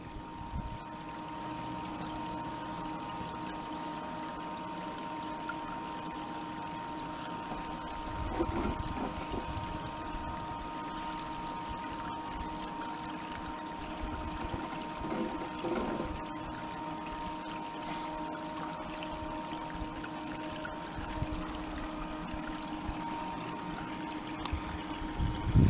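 Water pouring and trickling through a gold sluice box at a creek, a steady running flow with a pump-like drone underneath and occasional louder splashes.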